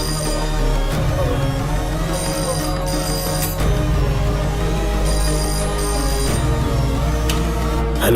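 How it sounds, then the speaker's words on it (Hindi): A telephone rings repeatedly at a house during a tense scene in a Hindi-dubbed action film, its loud electronic tone repeating in steady bursts over a sustained musical background. "पहले घर फोन करके देखो"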